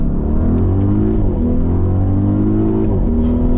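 An Audi RSQ8 SUV with the RS package accelerates on a race circuit, its engine roaring loud and close with steadily rising revs and a brief shift dip.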